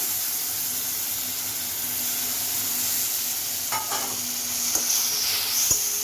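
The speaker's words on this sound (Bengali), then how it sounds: "পেঁয়াজটা একটু ভাজা ভাজা করে নিই" Onions and garlic paste frying in a pan give a steady, even sizzle with a few light stirring clinks and scrapes near the end, fairly close and unaccompanied by talk.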